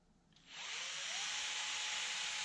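A hand drill bores into a homemade wooden fishing lure, starting after a short quiet moment and then whining steadily and loudly at close range with no talk.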